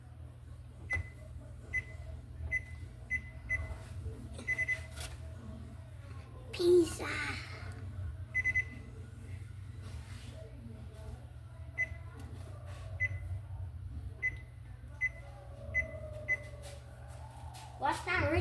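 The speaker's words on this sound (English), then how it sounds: "So I'm gonna go ahead and set my timer." A kitchen timer gives a series of short, close beeps as its buttons are pressed to set it for baking sourdough bread, while children talk and move around nearby.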